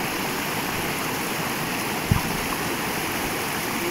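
A river runs beside a family trout-fishing outing in France, its steady broadband rush of flowing water continuous and fairly close throughout, with one brief low thump near the middle.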